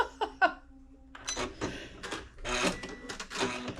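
Sewing machine basting the seams of a Butterick 6956 skirt after a couple of sharp clicks, a series of short, uneven stitching bursts heard up close.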